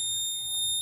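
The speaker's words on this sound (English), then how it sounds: "No ignition key, alarm on." A smart helmet's engine-lock alarm buzzes with a steady, piercing high electronic tone, held continuously and loud, alone without speech.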